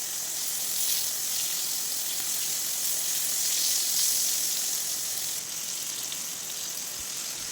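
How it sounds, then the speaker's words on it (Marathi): Fish pan-frying in a Malvani home kitchen, giving a steady, dense sizzle that holds at an even level throughout, close and loud with no talk. "आता मासे आपण परतून घेऊया."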